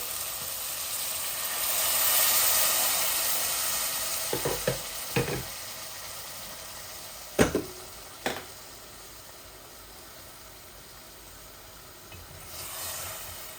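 A little water splashed into a hot pan of frying potatoes raises a swelling hiss of steam and sizzle, with several sharp clatters of stirring and a quieter, steady fry afterward.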